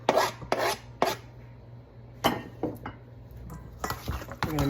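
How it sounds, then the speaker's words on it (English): Pineapple salsa with diced Roma tomato and minced garlic is mixed in a bowl, giving several short, close scraping and clinking strokes of a utensil. The strokes come in irregular bursts with quiet gaps between them and no speech. "We're gonna mix those all together."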